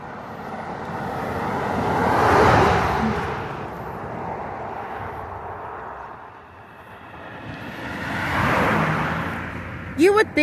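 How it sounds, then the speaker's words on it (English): A car passes along a road outdoors, its tyre and engine noise swelling and fading, then a second vehicle rises again late on, fairly loud and steady with no clear talk. "Another vehicle."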